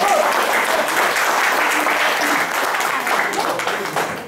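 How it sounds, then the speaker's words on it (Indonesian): A crowd at a community gathering in Kelurahan Tomang claps in sustained, dense applause, loud and steady throughout before tapering slightly near the end, with voices faintly mixed in. "Tepuk tangan sekali lagi."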